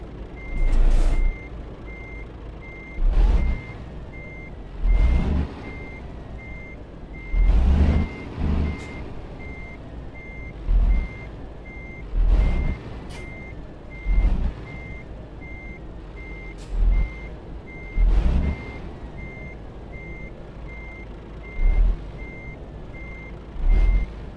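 Reversing beeper on a truck parking beside a Mercedes Actros in Euro Truck Simulator 2, a steady high beep repeating at regular intervals over a low idling engine rumble, with occasional louder thumps.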